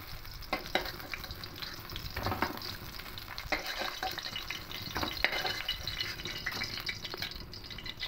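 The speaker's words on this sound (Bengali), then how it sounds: "এবার এই বাকি মাছগুলো একটু করে লাল লাল করে ভেজে নেব।" Fish pieces sizzle steadily in hot oil in a pan, a dense continuous crackle with repeated louder bursts of spattering and occasional stirring scrapes throughout; small rohu-type fish being fried for a mustard curry, no voices.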